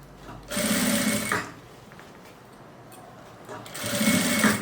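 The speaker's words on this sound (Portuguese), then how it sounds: "Eu tô costurando aqui pra vocês verem que assim também é possível." A sewing machine stitches fabric on a handmade suitcase, running in two steady whirring bursts of about a second each, separated by a quiet pause, close to the microphone.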